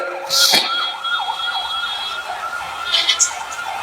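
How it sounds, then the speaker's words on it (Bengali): An ambulance siren passing by in the distance, a wavering wail that rises and falls repeatedly at moderate loudness, with a couple of brief sharp noises in between. "ডানে কি অ্যাম্বুলেন্স যাচ্ছে"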